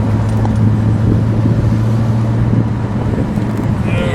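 A 1970 Pontiac GTO Judge convertible with a 400 Ram Air engine and four-speed cruises along, its low, steady engine drone humming continuously with wind and road noise, no talking.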